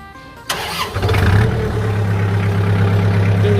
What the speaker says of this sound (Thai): เดี๋ยวลองสตาร์ทเครื่องยนต์ดูนะครับ